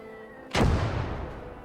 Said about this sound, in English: Excuse me, who is mortaring?